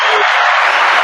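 A short burst of dense applause from a crowd, loud and steady, filling the whole moment without any talking over it.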